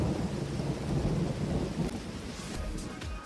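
A thunderstorm with rain plays back, a low rolling rumble of thunder over a steady hiss of falling rain, with a few sharper crackles toward the end.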